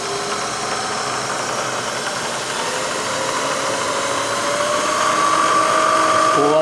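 Bridgeport Series I CNC vertical milling machine running, a steady whirring mechanical drone with a rising whine as the spindle speed changes, close and loud with no talk.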